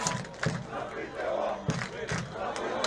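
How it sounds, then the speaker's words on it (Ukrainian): Fans in the stands at a Ukrainian First League football match between Bukovyna and Chernihiv shout together, with loud bursts of chanting and yells over a continuous crowd roar. "вигуки забити гол з трибуни зараз"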